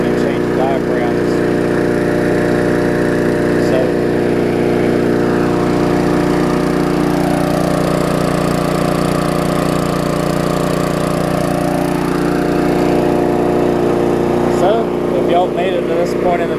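Old push lawn mower with a Sprint 3.75 horsepower engine running steadily at close range, a loud, even engine drone that holds throughout.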